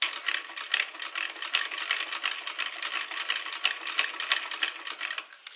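A sewing machine stitching a bag on its cylinder arm, running in a fast rapid chatter of needle strokes that speeds and slows slightly, close and clear, slowing off at the end.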